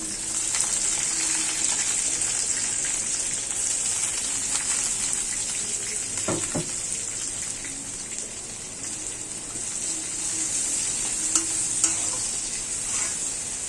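Onion and garlic sizzle in hot oil in a pan for beef khichuri, a constant bright crackling hiss broken by a few stirring scrapes, heard close and alone.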